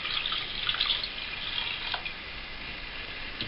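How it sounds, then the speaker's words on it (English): About a pint of water is poured into a pan of sliced lemon with skin and pips for jam, a faint, steady trickle and splash, close and alone. "I'm putting in about a pint of water"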